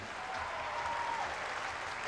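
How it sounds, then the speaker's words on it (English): Audience at a Six Flags Over Texas Batman stunt show claps in steady, fairly even applause, a broad wash of hands heard at moderate distance throughout. "So give yourself a hand!"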